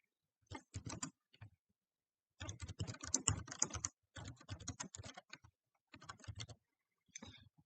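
Keys clatter on a computer keyboard while typing a short test message into a Word document, in quick bursts of clicks separated by brief pauses, close and clear with no talking.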